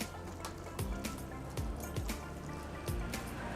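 Liquid fertilizer being poured onto an aglaonema plant, giving close, brief splashing and dripping sounds that repeat in short bursts.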